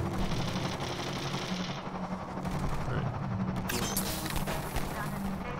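Sustained automatic gunfire in Half-Life 2 co-op, a dense rattling stream of shots mixed with game noise, steady and fairly loud throughout.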